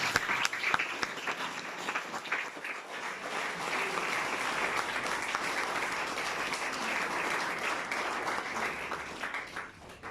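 A church congregation applauds the Lord, and the sustained, dense clapping stays loud and even throughout, tapering slightly at the end with no talk over it.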